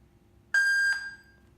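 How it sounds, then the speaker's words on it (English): A home alarm system gives a single clean electronic beep as it connects, a short steady tone of about half a second in an otherwise quiet room. "beep one time means connected successful."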